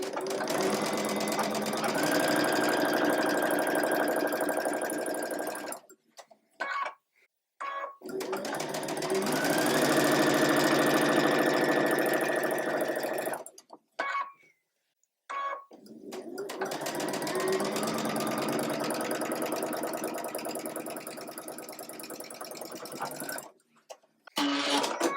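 A sewing machine stitches pieced quilt fabric together in three long, loud runs of rapid mechanical whirring, separated by short pauses and handling clicks.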